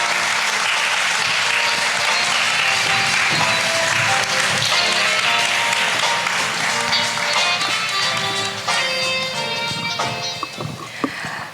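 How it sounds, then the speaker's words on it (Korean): An audience at an international student art competition in Jeju gives loud, dense applause to welcome a German curator, the clapping sustained over a background of music before a voice comes in at the end. "큰 박수로 맞아주시길 바랍니다"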